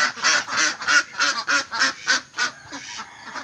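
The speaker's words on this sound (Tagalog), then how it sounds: "Saka kawalan na natin yung ano, ating malaking itik." A flock of large ducks quacks as the birds are let out, sending a rapid run of loud, nasal calls close by that fades slightly toward the end, with no talking.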